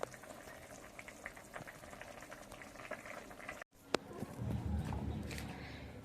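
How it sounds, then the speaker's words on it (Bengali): A pot of fish curry at a rolling boil, the fish just added: continuous close bubbling and gurgling that cuts out briefly, then returns slightly fuller with a low rumble underneath. "মাছের ঝোলটা ফুটে উঠেছে,"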